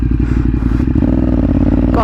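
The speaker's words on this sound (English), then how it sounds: "because I have a little tiny motorcycle" A small motorcycle rides along with a loud, close, rhythmic engine putter and some rattling.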